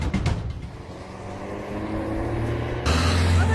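A car pulls away, engine rumbling steadily and then swelling louder as it accelerates off, close by with no talking.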